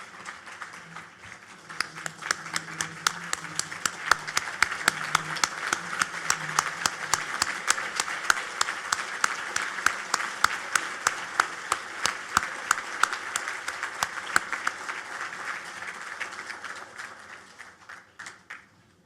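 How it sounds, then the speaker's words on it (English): A large audience at an annual benefit dinner stands and applauds, sustained steady clapping that builds, holds for many seconds, then tapers off. "Please, will you join by standing and applauding the Saltzman family?"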